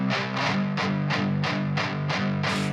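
Heavy distorted electric guitar, EQ'd with a mud cut and a low shelf taming cabinet resonance, chugs a steady rhythmic riff in loud repeated bursts, dense and continuous with no talking.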